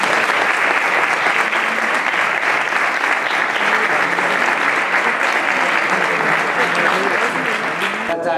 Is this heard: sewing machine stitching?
no